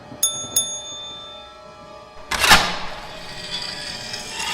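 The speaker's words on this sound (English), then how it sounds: "He spots a service bell in front of the metal sheet dividing the desk from the rest of the lobby" A bright metallic service bell on a hotel front desk dings twice in quick succession, clear and close, followed by a louder rustling clatter and quiet room tone.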